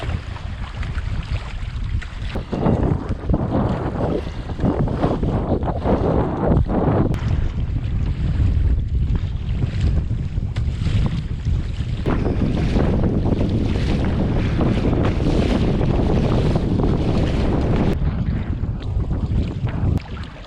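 Strong, sustained wind roaring and buffeting across the microphone, with surging gusts and a watery, choppy rumble underneath.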